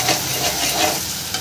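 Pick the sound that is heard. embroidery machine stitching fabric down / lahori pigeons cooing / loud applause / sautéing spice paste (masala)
sautéing spice paste (masala)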